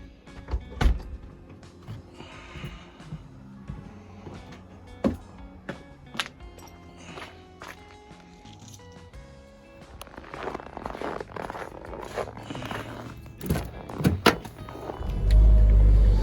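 A truck engine cranks and fires up in cold weather, catching with a loud, deep low rumble near the end after a stretch of scattered clicks, thumps and mechanical rattles close by.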